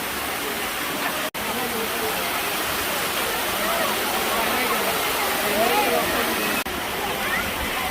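Water pours steadily down rocks at Kanheri Caves in Sanjay Gandhi National Park, a loud, constant rush, close and unbroken for several seconds.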